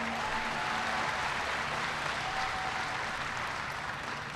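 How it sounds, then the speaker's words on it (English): An audience claps for Representative Dave Loebsack at a presidential event on clean energy, a dense, even wash of applause heard throughout at moderate volume. "Give Dave a big round of applause."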